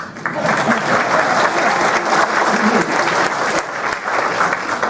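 An audience at a political forum applauds loudly and steadily for about five seconds, a dense, sustained clapping from a large crowd with faint voices mixed in.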